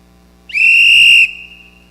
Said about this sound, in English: I forgot to return this whistle